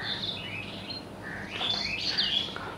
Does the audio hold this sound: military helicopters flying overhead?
no